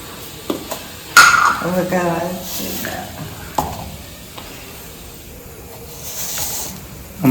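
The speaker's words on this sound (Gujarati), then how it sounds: "હવે દાળ વઘારે છે મારે મમ્મી" Hot oil sizzles and crackles in a pan as mustard seeds, chillies, cumin and curry leaves hit it to temper dal, with a voice talking over the frying and some faint clinks.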